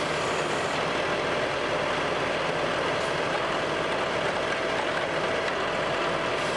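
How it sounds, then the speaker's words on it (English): A tractor engine runs steadily at a ranch while posts are set and concrete is lifted for a bison handling facility. It gives a continuous, loud, even drone with no breaks and no talking. "Now, I'm using the tractor right now."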